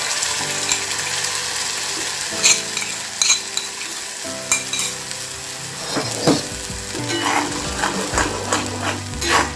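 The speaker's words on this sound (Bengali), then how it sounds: "এখন আমি ধনেপাতাটাকে ভেজে নেব, একটু ভালো করে ভেজে নেব" Chopped coriander leaves frying in mustard oil in a pan, a steady sizzle with scraping stirs and clinks of the spatula throughout, close and fairly loud, with no talk.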